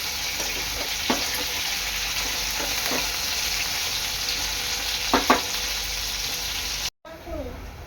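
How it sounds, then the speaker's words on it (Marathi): Soybean chunks fry in hot oil until crispy, a steady loud sizzle that runs throughout with a few soft stirring knocks, then cuts off abruptly near the end. "चांगले क्रिस्पी होईपर्यंत हे तळून घ्यायचे आहे।"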